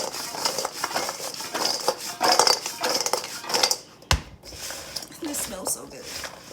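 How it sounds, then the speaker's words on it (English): Shrimp being tossed with a Cajun seasoning blend in a bowl, with repeated clinks and scrapes of a utensil against the dish and soft wet squishing, while a person talks over the mixing. "Then we're going to do some Cajun seasoning blend that I put together that will be on my blog. And you're just going to mix it all up together"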